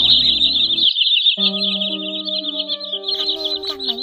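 Common greenshank calling, a loud, continuous run of high, fluttering whistled notes held for the whole stretch, with sustained background music playing underneath.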